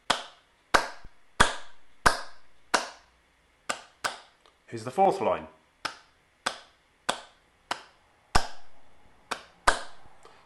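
Sharp hand claps tapping out the rhythm of a melody line from Beethoven's Ode to Joy, in steady spaced beats with a brief burst of speech in the middle.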